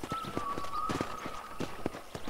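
Horse hooves clip-clop at a steady walking rhythm in the Red Dead Redemption video game on Xbox One, fairly close, with a sustained musical tone running beneath.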